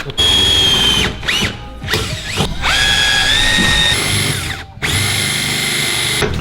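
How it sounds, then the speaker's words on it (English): A power drill drilling out a hole on a BMW E30 M3 track car whines loudly at high speed, revving in several bursts with brief pauses and pitch shifts between them, close up and with no talking. "you have to drill the first hole out, and then you've got a bigger one"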